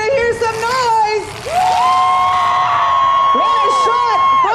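A demolition derby crowd cheers, whoops and shouts in a loud continuous roar, with a rising swell partway through and voices calling out in the grandstand.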